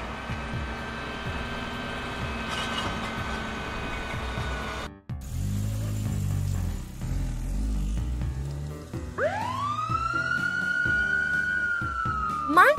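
A police siren wails loudly, rising and sweeping in pitch over traffic rumble, after a stretch of engine and road noise.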